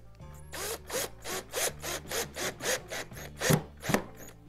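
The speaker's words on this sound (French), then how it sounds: "J'ai monté mon embout carré sur la perceuse. Je vais venir maintenant" Drill driving a screw with a square bit through a Kreg 720 Pro pocket-hole jig into wood: about a dozen rhythmic bursts of grinding, rasping rotation, each a fraction of a second long, close and loud with no voices.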